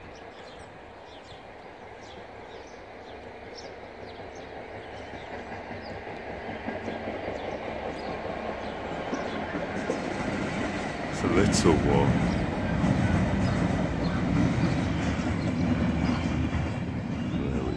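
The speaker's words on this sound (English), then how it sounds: "I'm gonna film a train coming by" A train rumbles past at Sawley, building from a distant hum to a loud close roar with rattling wheels, and a person speaks briefly over it.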